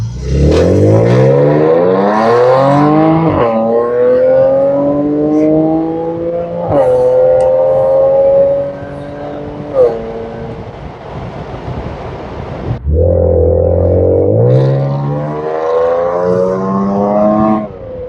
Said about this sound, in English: we're gonna do a nice pull from here to the next traffic light as soon as it turns green.